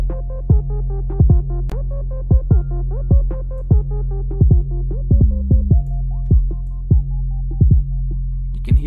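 Snare drum in a beat being mastered in FL Studio, sharp hits recurring at a steady mid-tempo rhythm over a loud, constant low bass drone, clear and upfront with no talking.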